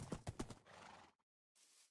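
A few hollow video game horse hoof clops in quick succession, close by, in a Hoplite battle royale match, followed by a brief rustling noise, a moment of silence, then soft ambient hiss.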